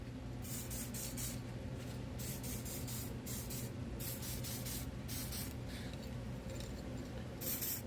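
Spray paint can hissing in short repeated bursts onto the edges of a book, held about two feet away for a metallic glitter finish; close, steady bursts over a constant low background hum.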